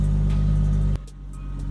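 A Lexus SC300 engine idling loud and close with a deep steady rumble, then abruptly shut off, leaving a quiet settling hum.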